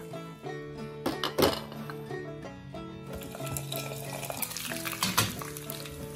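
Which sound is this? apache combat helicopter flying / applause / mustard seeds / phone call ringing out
mustard seeds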